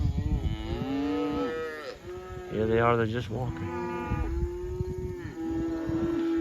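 Range cattle driven to recovered pastures during an extreme drought moo in long, drawn-out calls, several overlapping at close range, while a person talks briefly beneath them.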